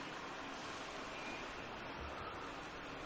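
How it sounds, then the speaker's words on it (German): Loud rushing water in the survival video game The Forest, a steady broadband roar like surf or a waterfall filling the whole clip without a break. "das Wasser ist ein bisschen sehr laut."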